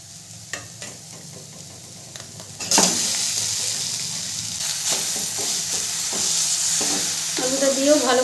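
Boiled potato being stirred into a spiced mixture in a pan on the stove for Bengali-style aloo paratha, a steady sizzle with scraping spoon strokes that grows louder partway through, with no voices.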